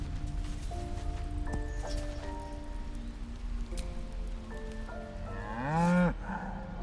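An ox in the Baldur's Gate 3 video game gives a loud, drawn-out moo near the end. Before it, steady game music plays sustained tones over a soft rain-like hiss.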